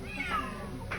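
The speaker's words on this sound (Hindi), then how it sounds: "बिल्ली माऊ माऊ कर रही है।" A cat meows close by, a short rising-and-falling call followed by a brief second meow, over faint background noise.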